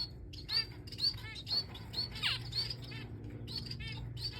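Small birds chirping and tweeting in short repeated bursts, several high calls close together against a steady low background rumble.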